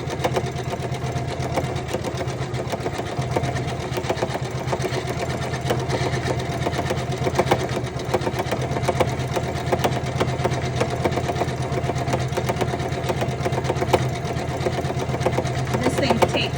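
A Janome embroidery machine stitches a design onto a shirt, its fast, steady mechanical whir and needle chatter running continuously at an even, fairly loud level with a low motor hum underneath.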